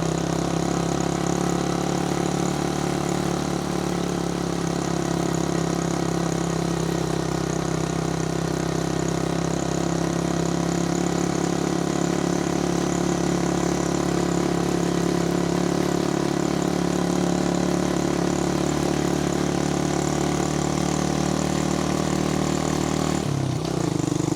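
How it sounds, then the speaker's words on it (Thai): Car engine hums steadily from inside the vehicle as it drives slowly, around 20 to 30 km/h, past a large landslide on a mountain road, with a constant low drone throughout. "โดยผมเนี่ยก็ขับรถเบา ๆ นะครับ ขับไม่แรงนะครับ ประมาณ 20-30 เองนะครับ"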